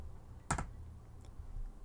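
A single sharp key tap on a desk, played as a fade-jump input in Arx Moira, stands out as one quick click over a quiet background, with a fainter tap following shortly after.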